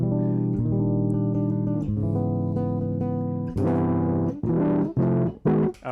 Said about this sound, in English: I'm gonna have to use a lot of distortion.